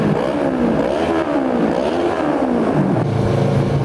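Kawasaki Versys 650 motorcycle with a Hurric Rac1 exhaust revving hard inside a tunnel, loud rising and falling engine blips that echo continuously throughout, no talk.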